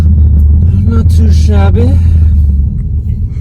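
A Dodge Challenger Redeye with a new carbon fiber driveshaft accelerates hard, a loud deep exhaust roar with rising engine tones climbing through a quick pull, close by, with a brief spoken remark over it.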